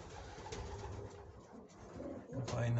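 Pigeons coo softly in a loft on a frosty day, low murmuring calls close by, with a louder low coo near the end under faint background noise.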